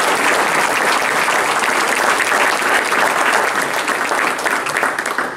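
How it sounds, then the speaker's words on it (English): An audience applauds at a city council meeting for a staff member's five-year service award, with steady, dense, sustained clapping from many people that continues throughout and tapers slightly at the end. "round of applause for Sarah"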